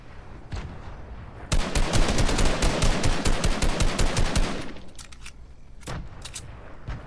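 Gunfire in the Fortnite video game: a dense, sustained burst of rapid automatic shots lasting a few seconds, preceded and followed by a few scattered single shots.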